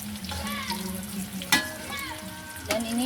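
Sausage bread fries in hot oil until crisp, giving a soft continuous sizzle with a few sharper pops, while tonal music plays over it.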